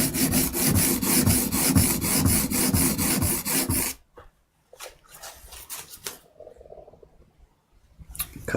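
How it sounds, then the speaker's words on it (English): A blade is stroked across a sharpening stone in fast, rhythmic rasping passes for about four seconds, loud and close, then stops and gives way to a few scattered scrapes and handling noises. "once you're near the end of work on any stone, back off the pressure for the"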